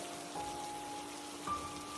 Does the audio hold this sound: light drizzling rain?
yes